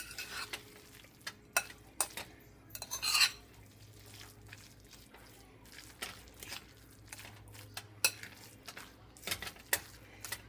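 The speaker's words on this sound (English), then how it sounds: "So I'm just stirring them up a little more." A spoon stirring a salmon patty mixture in a bowl, with repeated sharp clinks and scrapes of utensil against the dish at an uneven rhythm, close and fairly quiet, with no talking.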